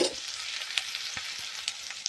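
Fenugreek leaves sizzle as they fry in a pan for a green pigeon pea stir-fry, with a steady, close crackle and a few sharp clicks of stirring throughout, no voices.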